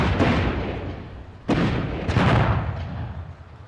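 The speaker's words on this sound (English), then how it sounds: "Why are we hearing explosions?" Rumbling explosions from the video game Dragon Age Inquisition, set in a burning forest, with loud, dense blasts and two sharp booms rising over a steady roar of battle.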